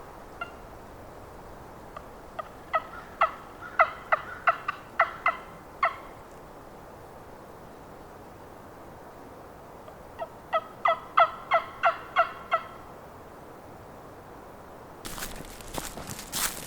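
A wild turkey gobbles in the woods at dusk in Alabama, two rapid rattling bursts of gobbles at mid distance, separated by quiet, with a sharp rustle near the end.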